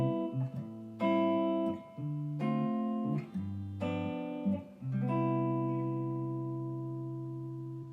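Fingerstyle acoustic guitar plays a I-vi-ii-V progression, the thumb picking bass notes on the low strings alternating with plucked chords in a steady, clean rhythm, each chord ringing out and the last one sustaining to a fade.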